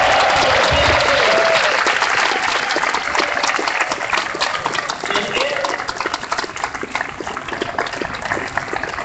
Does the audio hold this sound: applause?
yes